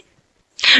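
A single sudden, loud sneeze bursts out close up after a near-silent moment.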